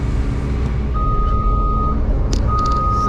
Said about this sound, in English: these heavy trucks pulling over here